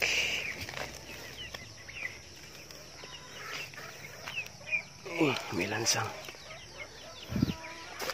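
Farm chickens cluck and call around a brooding turkey hen on a Filipino poultry farm keeping Brahma chickens, fairly faint under someone talking close by.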